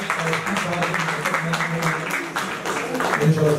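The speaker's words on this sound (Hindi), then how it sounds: "इनके लिए भी ताली बजाते हैं" An audience at a Hindi stage play claps for the costume designers, a fairly loud wash of clapping that runs throughout, with a voice talking over part of it.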